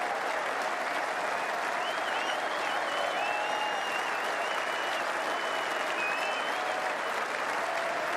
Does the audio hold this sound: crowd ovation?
yes